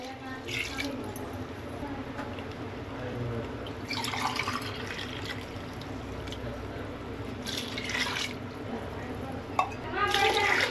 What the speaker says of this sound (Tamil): இந்த டைமில் வந்து தண்ணி சேர்த்துக்கலாம்.